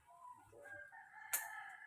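A rooster crows once, a faint, distant cock-a-doodle-doo rising and falling, with no one speaking.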